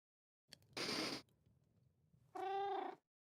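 Cats in Minecraft, a video game, give a short purring rumble followed by a clear rising and falling meow, both close and alone in a quiet scene.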